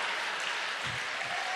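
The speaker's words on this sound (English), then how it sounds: "Standing ovation from the crowd." A crowd gives a standing ovation at the Swordfish 2016 historical fencing tournament, with dense, continuous clapping that holds at an even level throughout.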